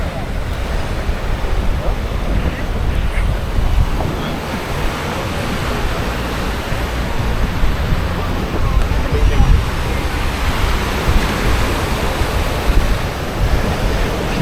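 Ocean waves break on Jurerê beach in Florianópolis with a continuous, dense surf wash, close by and loud, mixed with wind noise across the whole stretch.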